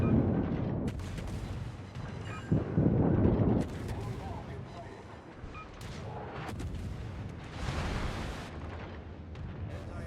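Heavy naval guns booming in World of Warships, a series of loud, rumbling blasts with bursts around 2.5 and 8 seconds over steady battle noise, with a voice speaking underneath.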